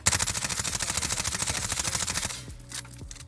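An SMG in a video game fires a fast, steady automatic burst at a distant target for about two seconds, loud and close, then stops, leaving faint echoing impacts.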